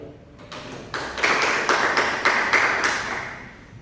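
A class of students in an Islamic education lesson claps together in a short burst of regular, evenly spaced claps that rises and then fades, with no talking.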